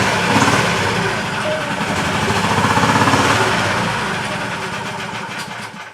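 A Honda GX390 or Predator 420 small engine on a golf cart conversion runs at a steady, fairly loud idle with an even, throbbing pulse.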